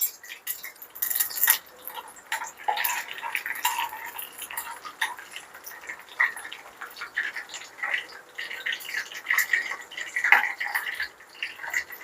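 Cumin seeds and black peppercorns crackle and sputter in hot oil, a dense, uneven run of sharp pops and sizzles at close range.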